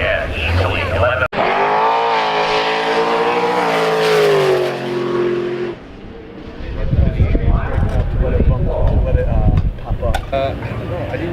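A race car revs hard through its gears, its engine note climbing in a long loud sweep before cutting off, followed by excited voices and background noise at the racing event.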